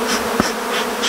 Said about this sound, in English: shake the bees off into here, quite a few here.